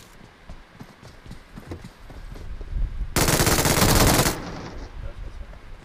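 Gunfire in a shooter video game: a loud, sharp burst of rapid automatic shots lasting about a second, rising over softer scattered game noise before and after.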